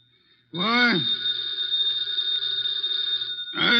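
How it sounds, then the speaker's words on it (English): A telephone rings with a loud, near electronic-style bell tone that holds for about three seconds and then begins again at the end, with no talk over it. "The phone."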